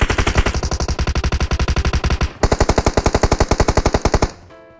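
Automatic gunfire in the mobile game PUBG Mobile, two rapid sustained bursts of loud, evenly spaced shots, the first running over two seconds, a brief gap, then a second burst of similar length, with no talking.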